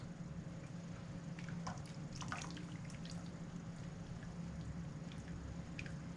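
Setting mould compound pours slowly from a bucket, a thin liquid trickle and soft drips over a constant low background hum, with no voices.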